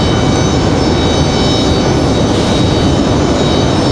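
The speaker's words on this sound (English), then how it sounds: "So next arrivals Republic Airways 4804, coming in from JFK, New York." A Republic Airways passenger jet arriving at Raleigh-Durham airport gives a loud, continuous engine roar with a thin high whine running through it, steady throughout.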